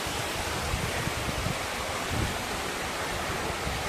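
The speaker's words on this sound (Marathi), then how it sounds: "छोटा धबधबा आहे, छोटा पाण्याचा झरा आहे" A small waterfall near a hillside temple rushes in a constant, even wash of falling water, steady and unbroken with no voices.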